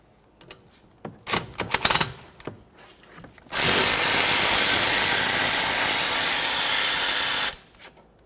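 A power tool spins out 10mm brake caliper slider bolts on a 2001-2005 Ford Explorer Sport Trac rear brake, with a few scattered clanks and ratcheting clicks before a loud, continuous whir that runs for several seconds and then stops.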